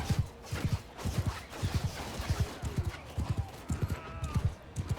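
Cavalry horses' hooves pound in rapid rhythmic clip-clop bursts during a Mount & Blade II Bannerlord battle, close and fairly loud, with occasional faint game noise behind them.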